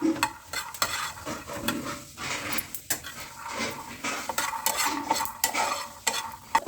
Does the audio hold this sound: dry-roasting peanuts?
yes